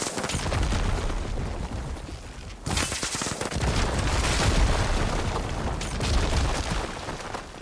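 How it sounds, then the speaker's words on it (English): Repeated explosions and bursts of gunfire from combat in the video game Horizon Forbidden West, Burning Shores DLC, loud and continuous, with heavy booms that swell and recede across the stretch. "The explosions are pretty sweet looking."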